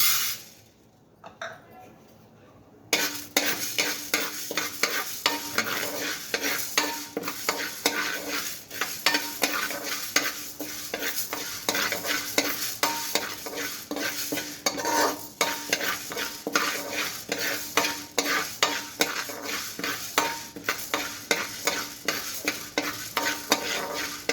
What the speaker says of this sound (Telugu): ఇప్పుడు ఈ మనపగుళ్ళు వేయించుకుందాం